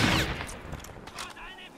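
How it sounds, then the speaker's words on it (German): Gunfire in a Crysis first-person shooter game: a sharp burst of shots and impacts at the start, followed by fainter cracks and rattling effects, loud and close over game ambience. "Der hätte es sitzen müssen, der Schuss."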